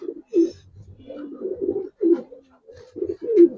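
Giribaz pigeons coo in a low, throaty, rolling rhythm, several short burbling phrases repeating close by with brief pauses between them and no talking.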